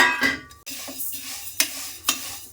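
Vermicelli is stirred as it roasts in oil in a pan, with a soft sizzle beneath repeated scraping and clinking strokes of the spoon against the pan, coming at a steady rhythm close by.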